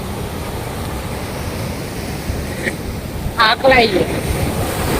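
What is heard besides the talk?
rough sea waves at Diu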